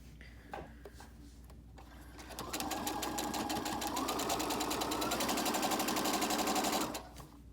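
Sewing machine stitching a fabric mask, running in one steady, fast, close whirring burst of about four and a half seconds after a few quiet handling sounds.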